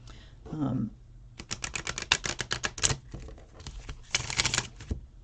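Tarot cards from the Enchanted Tarot deck shuffled by splitting, giving a quick run of crisp riffling flutters in two close bursts after a brief faint murmur at the start.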